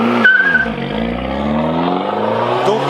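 An Abarth 595 Competizione drives up close and loud, its engine note rising and falling steadily with a brief tire squeal as it arrives.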